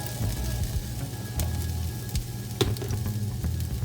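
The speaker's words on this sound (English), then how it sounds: "We've got about 2 or 3 tablespoons of hot olive oil. We're going to drop our onions" About a quarter of a medium white onion and four cloves of crushed garlic hit two to three tablespoons of hot olive oil at a sauté station, giving a steady, close crackling sizzle with one sharper pop partway through.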